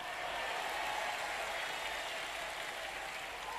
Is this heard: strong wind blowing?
no